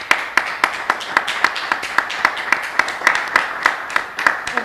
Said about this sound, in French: Je vous demande d'applaudir bien fort les invités du jour.